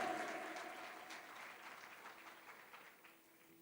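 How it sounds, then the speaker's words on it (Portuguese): Church congregation applauding during an Easter Sunday service: a broad, steady wash of many hands clapping that starts fairly loud and slowly fades, with no talk over it. "Você pode aplaudir ao Jesus que está vivo?"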